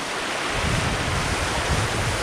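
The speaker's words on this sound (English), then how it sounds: "this is actually the second waterfall" A waterfall on Vancouver Island rushes in a loud, continuous, broadband roar, close by and steady with no pauses.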